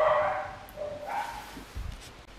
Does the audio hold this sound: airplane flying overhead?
no